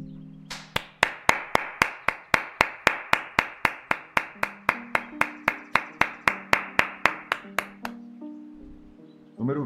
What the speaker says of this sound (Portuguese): Uma salva de palmas ao número 20.